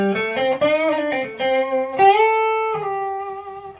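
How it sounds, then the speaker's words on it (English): An electric guitar plays a short run of clear, sustained single notes and chords, ringing cleanly and close, with a long held final tone. "So that's just my raw guitar tone."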